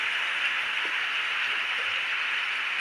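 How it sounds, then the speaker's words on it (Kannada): Night rain falls steadily as an even, hissing wash of noise that stays constant throughout, with no voices over it. "ಇವತ್ತ ಫಸ್ಟ್ ಟೈಮ್ ನೋಡ್ರಿ ಮಳೆ ಬರಾಕತ್ತಿದ್ದು"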